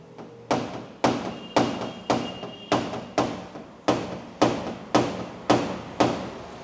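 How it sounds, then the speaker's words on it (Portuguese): A hammer taps out a car body dent in paintless dent repair work, striking about a dozen sharp, evenly spaced blows at roughly half-second intervals. Each hit rings briefly, close and loud, with no talking. "é o martelo"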